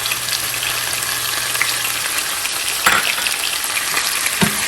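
Garlic paste and cashews sizzle in hot oil in a pan, a steady bright frying hiss with a couple of sharp scrapes and clinks of the spoon as they are stirred, close and alone.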